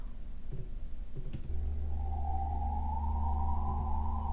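A low, sustained synthesizer bass note from the Alchemy synth enters and holds steadily, with a soft higher tone gliding above it, alone and without speech.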